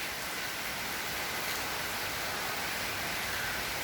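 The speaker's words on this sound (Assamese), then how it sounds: "আৰু এইফালে বৰষুণ এতিয়া একদম পৰি আছে" Rain falling steadily on a street with waterlogging and traffic, heard as an even, faint hiss of drops without pauses or voices.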